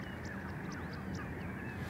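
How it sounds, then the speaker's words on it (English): Crows caw loudly over a steady outdoor background, with several harsh calls overlapping in irregular bursts from a flock of birds all around. "It's very strange being surrounded by all these birds they are just going off on one."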